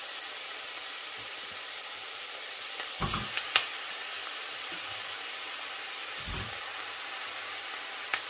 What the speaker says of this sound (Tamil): இன்னும் தக்காளி நல்லா வதங்கட்டும்.